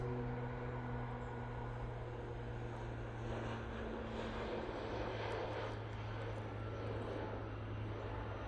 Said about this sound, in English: there's a prop somewhere